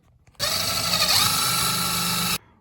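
A power drill with a 7/64 bit whirs at high speed for about two seconds, drilling pilot holes for screws during a 1950s MG TD car restoration, close and loud, starting and stopping abruptly with no talking.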